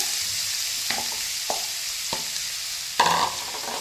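Onion goes into cumin seeds browned in hot oil, giving a steady loud sizzle broken by several scraping stirs and a brief louder burst near the end.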